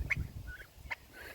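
Wild turkey gobbling in two short bursts, a tom fluffed up and strutting; the calls are fairly close and distinct over a low background rumble.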